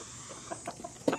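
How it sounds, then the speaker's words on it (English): Several chickens in a backyard flock give soft, scattered clucks, a few short calls spread out and then a louder cluster near the end, fairly close with no talking. "we have added back to our chicken flock"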